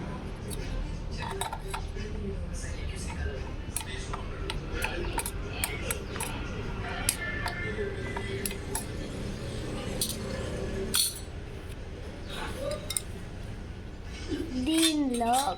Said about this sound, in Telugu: వేసుకున్నాక ఇప్పుడు మిక్స్ చేసుకోవాలి